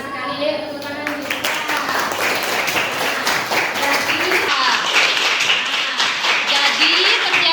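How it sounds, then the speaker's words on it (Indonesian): Classroom applause from students in an Islamic history lesson, a dense burst of clapping lasting several seconds with voices mixed in. "Tepuk tangan dulu."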